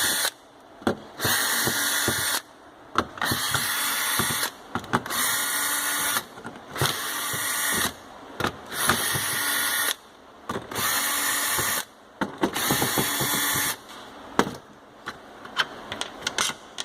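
Power drill backing screws out of a pressure washer trigger gun, close and steady: repeated whirring runs of one to two seconds separated by brief pauses, about eight bursts in a row, with no talking.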